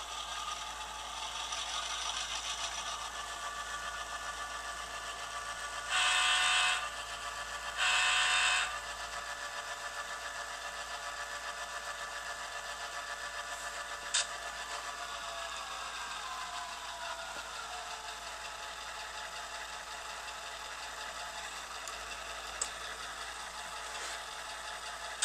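An O scale model locomotive on radio-controlled DCC runs along the track pulling a dead engine and two cars, a quiet steady mechanical whir and rattle with a couple of brief buzzy bursts and faint clicks.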